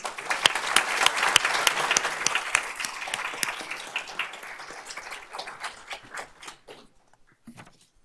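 An audience at a school district board of trustees meeting claps loudly, then the applause thins out and fades to a few scattered claps.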